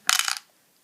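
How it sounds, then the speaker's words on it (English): Wooden cubes from a Lord of the Rings: The Nazgul board game tumble into a combat cup, giving one short, bright rattling clatter close by, then quiet. "So we then put all the rest of the cubes into the Combat Cup."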